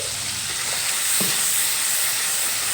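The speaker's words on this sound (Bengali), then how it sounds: "গ্যাসের ফ্লেম মিডিয়ামে রেখে আমি এখানে মশলাটা খুব ভালোভাবে কষিয়ে নেব।" Spice masala is fried and stirred over a medium gas flame, a close, even hissing sizzle with a soft stir or two and no voices.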